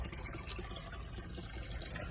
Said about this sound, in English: This is where I get water for me and my family. We fill up.